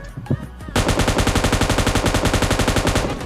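Automatic weapon fire in the mobile battle-royale game PUBG Mobile Lite: after a few scattered shots, a long, loud, rapid burst of evenly spaced gunshots runs without pause to the end.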